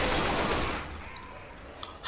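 A loud burst of gunfire from a zombie shooter in Left 4 Dead 2, on an add-on map. The rattling blast stops abruptly and decays into a quiet tail, followed by a small clatter at the end.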